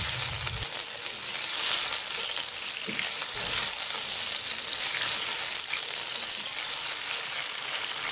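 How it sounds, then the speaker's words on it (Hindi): Three green chillies, slit lengthwise, fry in a pan for a chicken jalfrezi, a dense continuous sizzle and crackle heard up close with a few low knocks near the start and no talking. "तीन अदद हमने हरी मिर्चें ले ली हैं वो भी हमने लंबाई में काट ली हैं तो अब हमने इनको फ्राई कर लेना है"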